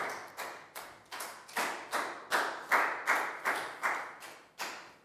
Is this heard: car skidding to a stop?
no